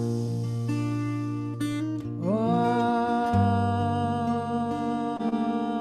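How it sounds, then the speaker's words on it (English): Several voices chant a long, sustained Om together, the low drone shifting into a humming close and swelling as the tones layer and overlap. "let's join in the sound of Om"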